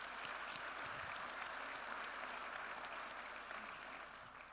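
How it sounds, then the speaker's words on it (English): A small indoor audience at an economic development summit applauds for several seconds, a dense even clapping that tapers slightly at the end. "Round of applause for Mark."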